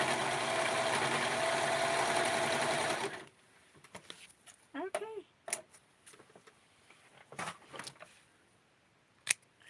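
Scissors snipping thread at a sewing machine, a few sharp close clicks and snips following a loud steady run of machine stitching that stops abruptly.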